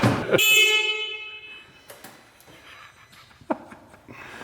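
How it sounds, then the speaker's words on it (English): A short, loud, high-pitched UTV horn honk sounds up close, then fades into quieter background rustling and a few faint knocks. "have you heard Scott's horn?"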